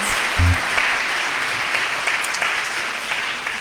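Audience applauding the musicians at an evening praise service, a steady wash of clapping hands throughout with a brief low thump near the start, no voices over it.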